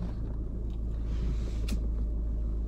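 A car nearby gives a steady, loud low rumble throughout, with a brief hiss partway through and no one talking.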